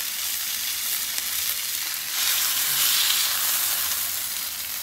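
Steak and a pat of butter with a splash of Worcestershire sizzling on a flat top grill, a dense, bright, continuous hiss close up that swells briefly midway, with no voices.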